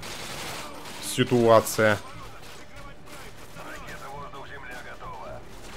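A short, loud burst of machine gun fire rattles in Call of Duty: Modern Warfare 2, followed by quieter battle ambience with someone talking over it.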